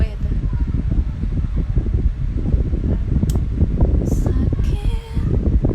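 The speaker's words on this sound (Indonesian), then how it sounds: "Iya tuh kipas angin belakang HP banget." An electric fan runs just behind a phone, giving a close, steady whirring rush with fluttering pulses throughout, while someone talks over it.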